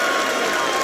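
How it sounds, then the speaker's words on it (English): Applause and cheering from a crowd at the Chandrayaan moon landing, a dense, steady wash of clapping at constant loudness, with a faint voice audible underneath. "People are applauding."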